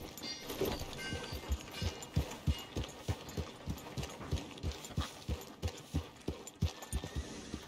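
Horse hooves clip-clop in Red Dead Redemption 2, a steady run of regular footfalls close by, each a sharp low knock, continuing throughout with faint ambient game sound beneath.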